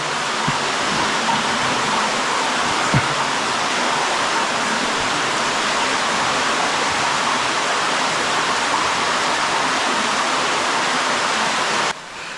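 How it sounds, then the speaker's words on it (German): Water rushing inside a water-bearing cave, a loud, dense, steady roar like a stream or small waterfall that fills the space, with one brief knock near the start and a sudden drop in level at the very end. "Das Versteck befindet sich in einer wasserführenden Höhle."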